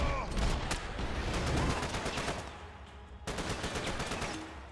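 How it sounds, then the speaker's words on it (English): Enemy blind fire in Max Payne 3, rapid bursts of loud gunshots in close succession that cut off briefly and then resume. "That's some really accurate blind fire he's got going on there."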